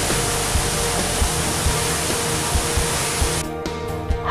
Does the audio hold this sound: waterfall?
yes